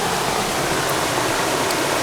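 Rushing water of a brook trout stream, a loud, steady broadband roar that stays close and unbroken, with no voices over it.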